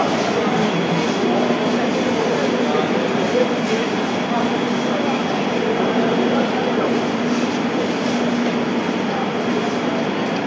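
A passenger train with third AC coaches pulls into a station, a loud, steady rumble of wheels and carriages rolling on the rails with faint clatter throughout.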